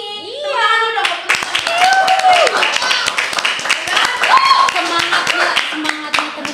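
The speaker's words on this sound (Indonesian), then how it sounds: "Tepuk tangan dulu dong" Podcast participants at an Indonesian Independence Day celebration clap for the event helpers, a lively run of quick hand claps from a small group, with voices and a rising exclamation mixed in.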